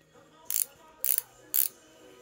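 Three evenly spaced sharp ratcheting clicks from a wrench working the lower nut of a La Pavoni espresso machine sightglass, close and crisp against a quiet room.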